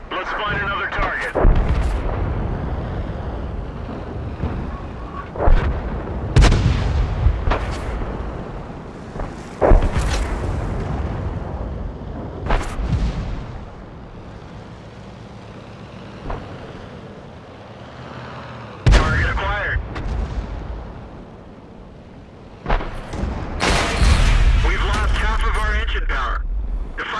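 The AMX ELC bis tank fires its gun in a video game, giving about eight heavy booming shots at irregular intervals, each with a rumbling tail. Voices speak between and over the blasts.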